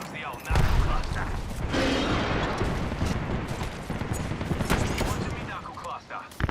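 A knuckle cluster grenade goes off in a fast online shooter match, a loud burst of explosive crackle and rattling debris that fills several seconds, over dense ongoing gunfire and game effects.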